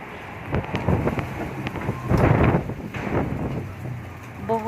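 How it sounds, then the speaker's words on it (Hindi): Strong wind gusts roar and buffet the microphone in surging waves, loud and close, with rustling debris underneath. "बहुत तेज़ हवा, बहुत तेज़ हवा है।"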